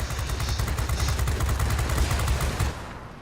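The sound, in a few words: Bf 110 machine gun fire at bombers in a video game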